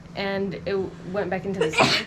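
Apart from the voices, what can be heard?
sneeze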